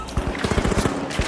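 Rapid automatic gunfire in the online shooter The Finals, a fast stream of sharp shots repeating about every tenth of a second, loud and up close with game sounds behind it.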